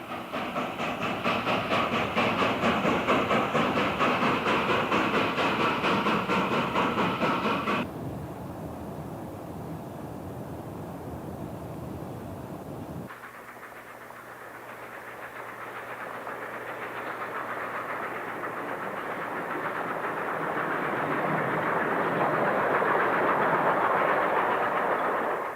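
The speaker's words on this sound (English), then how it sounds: "a Class P 462 Pacific will roll through the town" A Class P 462 Pacific steam locomotive rolls through a town, with a loud, steady roar of train noise that briefly quiets, then builds again with rumbling wheels and rising clatter toward the end.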